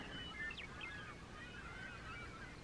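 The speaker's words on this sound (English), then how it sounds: "Those seagulls are insane, and they're everywhere." Seagulls calling on a desert island, a few short honking, squawking cries at middle distance over steady wind-like background noise.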